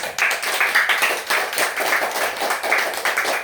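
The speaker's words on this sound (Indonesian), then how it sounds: "Tepuk tangan dulu buat cita-cita kalian." A small group of children clap together in a classroom, a close, rhythmic patter of fairly synchronized hand claps repeating steadily, with no talking over it.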